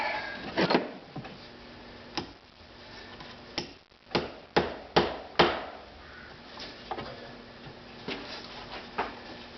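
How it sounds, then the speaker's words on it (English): A hammer drives bolt heads flush into a wooden paracord bracelet jig: about a dozen sharp, close knocks, some spaced apart and some in a quick run of four, over a quiet room. "and just hammer the heads in until they're flush."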